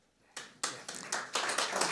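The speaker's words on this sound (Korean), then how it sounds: "여러분 다시 한번 큰 박수를 부탁드립니다." An audience at an award ceremony breaks into applause after a short quiet moment, a dense patter of many hands clapping that swells and stays steady.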